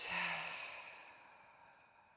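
One soft, close exhale flows out during a gentle breathing exercise after a deep breath in, trailing off quietly into stillness.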